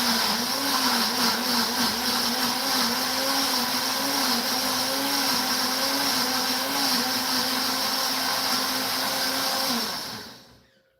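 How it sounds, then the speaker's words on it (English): A blender whirs loudly and continuously while blending hot pepper sauce, a steady motor drone with a slight wavering pitch for about ten seconds before spinning down and stopping. "We're going to blend this up."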